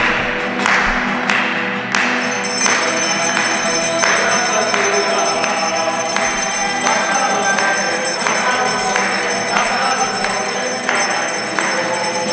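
Church bells ring out during an Easter vigil, a steady, dense clangor of bright metallic strokes filling the space, with scattered thumps and background crowd noise throughout.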